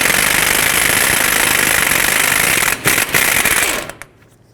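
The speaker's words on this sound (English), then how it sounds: "Next, I want to take off the axle nut." A 30mm deep socket on a powered tool drives off the front axle nut of a 2002-06 Toyota Camry during CV axle replacement, giving a loud, steady, rough mechanical whirr for nearly three seconds with a couple of short bursts before it stops.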